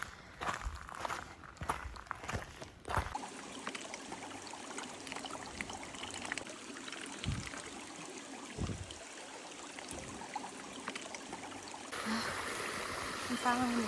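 Footsteps crunch on a dirt path at first, then a creek flows and trickles steadily nearby, growing a bit louder toward the end.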